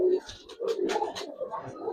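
Racer pigeons cooing in soft, repeated low coos, close by, with faint background voices and chatter around them.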